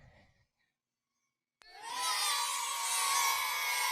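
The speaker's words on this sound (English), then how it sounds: "you can use sound effects like the crowd going wild." A sudden loud crowd roar bursts in after a short silence and holds steady, a dense wash of cheering and shouting voices that sustains to the end.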